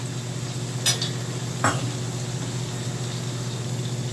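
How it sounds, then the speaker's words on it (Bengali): Potatoes and peanuts fry in a pan with a steady close sizzle. Two short scraping stirs of a utensil cut through it. "আর এখানে আলুটা ভাজা হচ্ছে"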